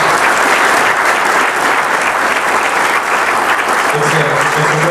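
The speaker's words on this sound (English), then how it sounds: "Let's give Ed a round of applause for all of you." Audience applause after a panel discussion, loud sustained clapping from a sizeable crowd that holds at an even level throughout.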